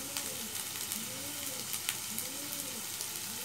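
Finely chopped tomatoes fry in a pan while making a pomfret curry with mustard and poppy seed, giving a quiet, continuous sizzle with faint crackles throughout.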